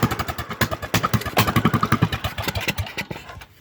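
Unmuffled Craftsman small engine revving hard, a loud rapid pulsing exhaust clatter that rises and falls with the throttle, close up and alone, fading slightly at the end.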